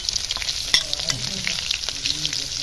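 Potatoes sautéed with ginger, chili, cumin, turmeric and garam masala, giving a loud, dense, close frying sizzle with stirring clatter throughout, no voices.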